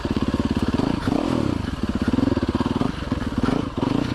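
An enduro motorcycle is ridden off-road, its engine buzzing loud and close with a rapid, pulsing throb that rises and falls as the throttle is worked.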